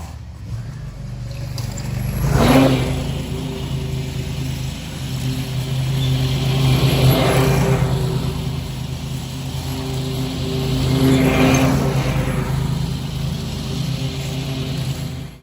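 A Bad Boy lawn mower engine runs continuously, a steady motor drone that swells and fades in slow waves as the machine moves while mowing a property.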